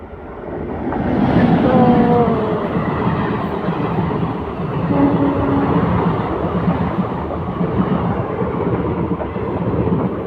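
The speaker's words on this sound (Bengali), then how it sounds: "ট্রেন আসছে এখন।" A train approaches along a railway line near a rail gate, heard from a walkway beside the tracks as a loud, steady rumbling roar with faint squealing tones, continuing for about ten seconds.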